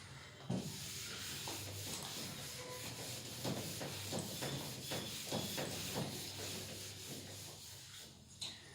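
Repeated rubbing strokes on a board as writing is erased, a quiet rhythmic scrubbing heard alone.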